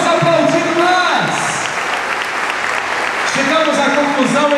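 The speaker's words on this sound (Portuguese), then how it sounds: "Vamos aplaudir mais." A church congregation applauds in a steady, dense wash of many hands, heard under a preacher's voice that speaks at the start and again near the end.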